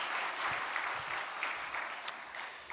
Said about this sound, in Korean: 그 하나님과 주님께 큰 박수로 영광을 올려드리면서